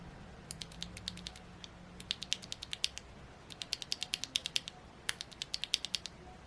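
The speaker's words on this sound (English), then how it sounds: "we can't move on unless we have a sound test from the stock Radiant Reds" Stock Radiant Red mechanical keyboard switches typed in several quick bursts of crisp, clacky keystrokes, with short pauses between the flurries, close-up and fairly quiet against a faint background hum.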